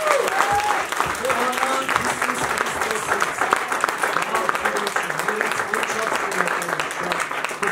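A congregation at a church service applauds loudly and continuously for several seconds, dense clapping from a full room with some crowd voices mixed in.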